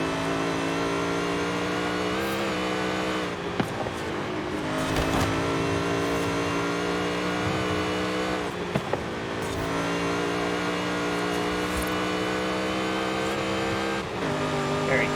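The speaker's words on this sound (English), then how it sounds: "just to hear the supercharged V8 for a while" Supercharged V8 of a 2005 Ford GT in the Forza Horizon 5 racing game, revving hard through repeated gear changes with brief dips between pulls and occasional tire squeal, loud and continuous.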